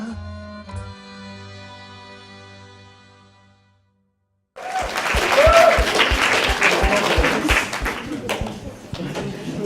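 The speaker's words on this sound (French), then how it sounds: "Vous applaudissez parce que vous êtes obligé" Audience applause fills a room after a quiet stretch of sustained music, starting suddenly and holding as dense, loud clapping with faint scattered voices.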